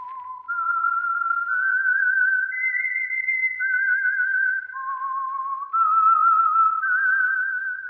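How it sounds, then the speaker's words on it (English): The whistled theme of the 1944 radio mystery show The Whistler, a lone clear melody of held and gliding notes that rises and falls steadily for several seconds, loud and close with no talk. "That whistle is your signal for the Signal Oil Program, The Whistler."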